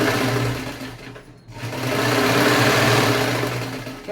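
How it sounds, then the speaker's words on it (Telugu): A sewing machine stitches a cloth foot-wiping doormat, running rows across the middle. The motor hums in a steady, loud whir, pauses briefly, then resumes for a longer run. "నాలుగు పక్కల మధ్యలో కూడా ఇట్లా బారు కుట్టేసుకున్నాను"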